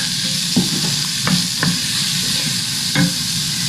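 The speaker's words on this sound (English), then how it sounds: "fry your corn." Corn fries in butter in a pan, a loud close continuous sizzle punctuated by several scraping stirs of a spoon or spatula, with no one speaking.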